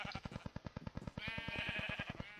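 Sheep on a video game sheep farm bleat in a quick, regular run of pulsing calls, close and clear, with a brighter, higher-pitched bleat joining partway through.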